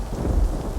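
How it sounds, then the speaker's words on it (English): A thunder clap sound effect rolls as a deep, continuous rumble with a rain-like hiss on top, steady and fairly loud for under a second. "a bolt of lightning and thunder claps and streaks across the sky"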